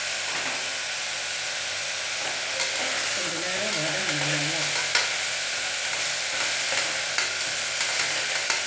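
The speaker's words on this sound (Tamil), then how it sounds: "எல்லாம் நல்லா ஃப்ரை பண்ணிக்கலாம் கொஞ்சம் நேரம்" Tomatoes with ginger garlic paste frying in a pan, a steady broadband sizzle with soft stirring scrapes and a few small clicks throughout, close and fairly loud with no talk.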